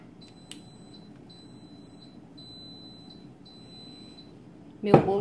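An oven timer signalling a finished cake, a run of thin, evenly spaced high beeps sounding over quiet kitchen background, followed by a voice starting to speak at the end.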